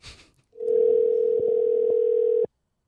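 A steady telephone dial tone hums loudly and close for about two seconds after a brief rustle, then cuts off abruptly.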